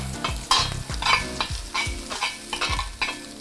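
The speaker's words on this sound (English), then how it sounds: "now we're gonna pop in our eggs" Eggs fry in oil in a pan for shrimp fried rice, a close, crackling sizzle punctuated by frequent scraping and clacking strokes of a spatula stirring and pushing the food, with no speech.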